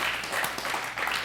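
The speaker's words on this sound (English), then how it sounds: "you can applaud that." An audience breaks into applause during a spiritual talk, a brief burst of mixed clapping from a crowd, fairly loud and continuous.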